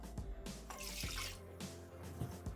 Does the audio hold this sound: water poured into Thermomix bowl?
yes